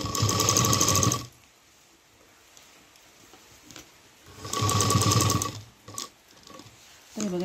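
Sewing machine stitching a cloth dholki bag, two loud close bursts of rapid mechanical stitching separated by a pause with faint handling sounds, then the motor starting again at the end.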